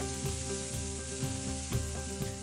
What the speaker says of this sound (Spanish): En otra cacerola agregamos aceite para sofreír la cebolla cabezona hasta que dore un poco y luego adicionamos el pimentón.